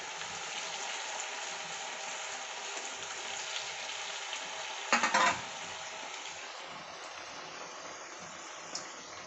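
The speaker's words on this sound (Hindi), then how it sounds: "डीप फ्राई कर लेंगे।" Sabudana tikkis deep frying in oil over a medium flame: a continuous, even sizzle and hiss, broken once midway by a short clatter, with no voices.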